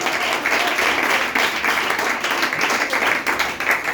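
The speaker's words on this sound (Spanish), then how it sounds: "A ver, aplausos en nombre del Señor." Church congregation applauding during a Spanish-language service, a steady wash of clapping that carries on for the full stretch with a few swells and dips.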